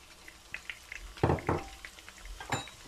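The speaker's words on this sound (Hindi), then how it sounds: "इसमें हल्का सा फ्राई करेंगे" Spices sizzle and then onion fries lightly in a pan for a Pakistani kofta aloo dish, with soft crackling and a couple of louder stirring scrapes near the middle. The sound is close and moderately quiet, and no one speaks.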